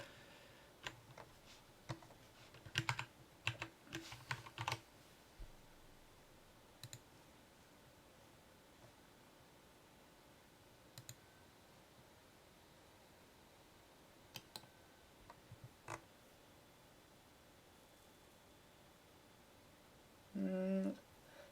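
Clusters of sharp key clicks from an Ergodox split keyboard come in short bursts separated by long quiet gaps, faint over a low background hiss, ending with a brief louder tonal sound.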